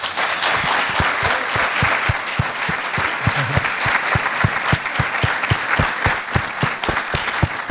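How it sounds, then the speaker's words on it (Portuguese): Sustained applause from a church congregation for its pastors, a dense, steady wash of clapping with sharp individual claps standing out, kept up at an even level for the whole stretch. "Vocês podem dar um aplauso para eles?"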